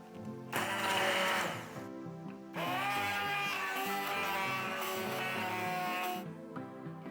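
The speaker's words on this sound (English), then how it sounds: "I blend it." A blender purees pumpkin soup in two loud bursts, a short whir of about a second and a half, then after a brief pause a longer, steady motor whine lasting nearly four seconds.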